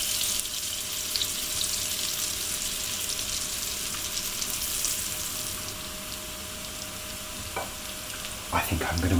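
Pieces of celeriac browning in a hot pan give a steady, close sizzle of frying oil throughout, with a couple of brief utensil clatters near the end and no speech.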